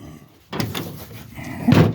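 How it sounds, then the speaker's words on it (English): A door on a 1969 Ford Mustang Mach 1 is pushed shut, a close thud with a second firmer shut-sound following a moment later. "That door didn't shut. Nope. Now it's shut."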